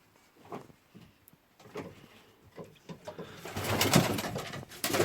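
Fancy pigeons, including satinettes, coo in a loft in a run of soft, throaty calls that grow denser and louder toward the end, with several birds overlapping and no one talking.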